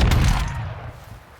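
A magazine dumped in a rapid gunfire burst in the Modern Warfare 2 Beta, a loud opening crack that trails off into a fading rumble, with no talk.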